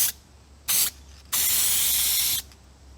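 Lens and bulb dye sprayed from an aerosol can onto an XT Falcon's car light, two hissing bursts: a short one, then a longer steady spray lasting about a second, close and clear in a quiet space.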